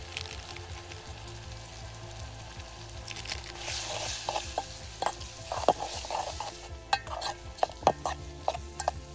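Spices for egg Maggi fry in a pan on a high hilltop, giving a low steady sizzle that turns to a run of sharp spoon-against-pan scrapes and clicks in the second half, with no voices.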